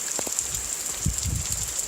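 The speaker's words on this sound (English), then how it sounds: "I'll probably set it down until the rain dies down." Rain falls outside during car work, giving a steady, close hiss with a few soft low thumps mixed in.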